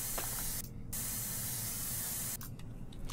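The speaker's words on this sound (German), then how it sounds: "Ich spiel jetzt drauf und jetzt sprühst du erst dran." A spray can hisses in a steady, loud stream of broadband noise during play of the video game Erie, pausing briefly twice before resuming, close up and with no voices over it.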